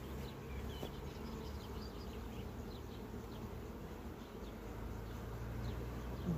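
Buckfast honey bees hum at the hive in Çorum, a dense continuous buzz with no voices heard.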